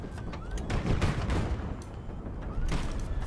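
Huge explosions from 1,000-ton bombs strapped beneath airships in Highfleet, a continuous roll of deep, heavy blasts overlapping into a rumbling barrage, loud and close, with a fresh burst near the end.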